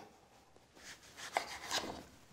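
A knife slices through a papaya to cut it in half, heard as a few soft, close scraping and crunching strokes on a cutting board in a quiet kitchen.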